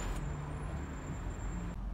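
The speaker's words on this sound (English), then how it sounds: "engine is running" A Honda CR-V 2.0 i-VTEC automatic idles with the engine running. It gives a steady low rumble heard from inside the car, with a faint high whine over it and no speech.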